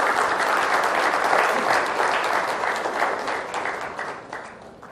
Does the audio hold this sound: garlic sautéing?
no